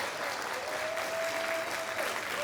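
Audience applause at a community appreciation celebration, a dense steady clapping from a crowd that continues evenly through the whole short stretch, with a faint tone sounding underneath.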